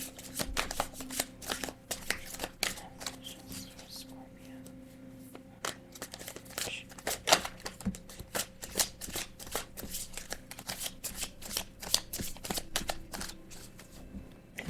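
Repeated crisp riffling and flicking of a deck of cards being shuffled, quiet and close, with soft rustling between bursts.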